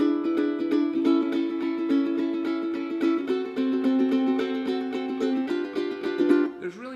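Open-string chords on a ukulele carry a swing-tune bridge, strummed in a steady, even rhythm with bright sustained harmonies. The chords ring close and clear for about seven seconds, with no talking.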